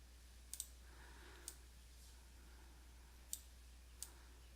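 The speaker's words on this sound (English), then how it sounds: "use your keyboard control and click" A computer mouse clicked several times while the keyboard Control key is held, sharp isolated clicks spaced irregularly against a quiet, faintly humming background.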